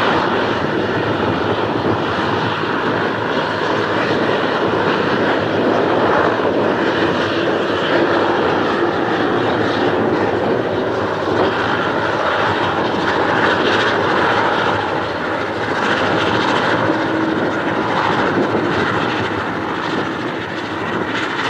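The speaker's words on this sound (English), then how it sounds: "cleared for takeoff, runway 6 left" A fixed-wing airplane taking off at Toronto Pearson airport, a loud continuous engine roar with broad rushing noise that holds steady throughout and eases slightly near the end.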